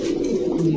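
A pigeon at a fancy pigeon farm gives a short, low, throaty coo, close and clear, lasting under a second.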